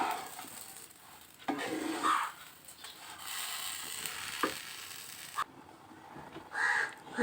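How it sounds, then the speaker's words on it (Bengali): Hot water goes into rice frying in a pan for basanti pulao, a hissing sizzle that swells and fades with a few stirring knocks, fairly faint and close, while a crow caws in the background. "এবারে এর ভিতরে আমি সেই গরম জলটা অ্যাড করে দেবো"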